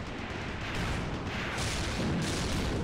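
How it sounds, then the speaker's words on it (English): Tank guns firing in the Graviteam Mius Front combat game, heard as a dense, steady roar of booming blasts and rumbling fire throughout, swelling slightly louder toward the end with no clear voices. "Do the thing where you shoot your guns."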